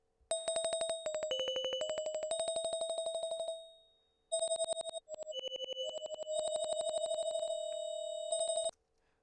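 A synthesized bell patch created in Ableton plays a run of sharp, ringing metallic tones, bright struck notes changing pitch in a melodic phrase, with a brief pause midway and a clear decay at the end, heard alone.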